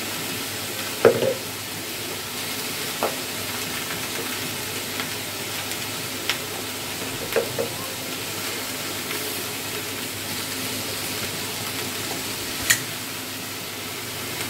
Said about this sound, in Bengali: জিরে বাটা দিচ্ছি আমি একদম অল্প।